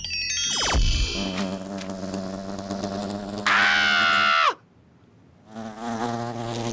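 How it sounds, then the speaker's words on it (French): A cartoon housefly buzzes loudly and close in an animated series about rats, a bright whining drone that swoops and shifts pitch, cuts off abruptly near the end, then returns after a short silence. "Allez, tu dégages maintenant, sale mouche."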